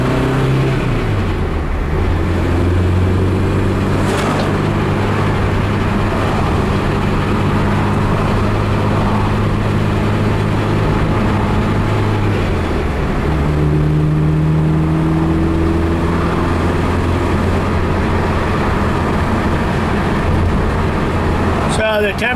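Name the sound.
1972 BMW 2002 car driving on test drive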